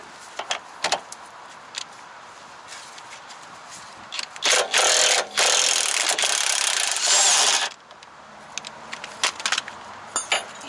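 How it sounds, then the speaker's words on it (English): A ratchet turning during a Toyota Supra MKV strut and spring replacement, heard as scattered close clicks, then a loud, continuous three-second burst of rapid ratcheting, then more intermittent clicks, with no talking. "Ratchet."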